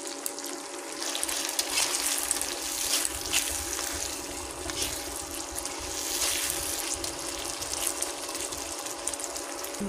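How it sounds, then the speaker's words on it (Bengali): Spice masala with chopped tomato frying in a pan, a dense continuous close sizzle and crackle with occasional stirring, steady and moderately loud throughout without speech. "মশলাটা কষানো হচ্ছে আর সামান্য বাকি।"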